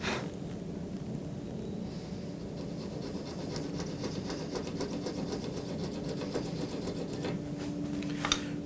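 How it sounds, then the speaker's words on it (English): Hand-cut nut slotting files rasp across an electric guitar nut in steady, close back-and-forth strokes, a continuous gritty rubbing with no talk. "These are hand-cut nut slotting files that we make here."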